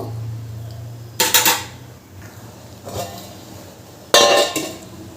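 A lid set onto a simmering pot of Bengali chickpea and pea ghugni gives a few bright metallic clanks and rattles, spaced seconds apart, over a steady low fan-like hum with no talking.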